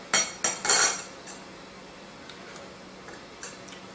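A knife cuts a large peeled garlic clove in half on a hard surface while garlic is being packed into jars for canning jalapeno peppers: three close, crisp clicks of the blade in quick succession, then a few faint light taps.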